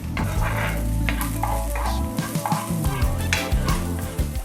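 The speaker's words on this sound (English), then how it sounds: "we're gonna go in with our onions and our garlic, and we're just gonna saute these until fragrant" Onions and garlic sauté in olive oil in a skillet, with a steady close sizzle and scraping stirs over soft background music.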